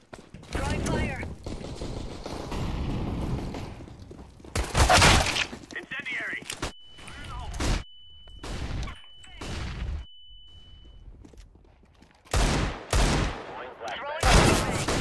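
Gunfire in a competitive first-person shooter video game, loud repeated bursts of shots in clusters separated by pauses, with a steady tone ringing briefly in the middle and a player talking between shots.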